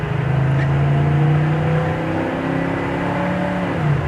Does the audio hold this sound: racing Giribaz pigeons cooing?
no